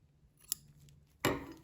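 Scissors snip through thread from a tailor's tack on fabric pattern pieces: a light click, then one sharp, close cutting snip.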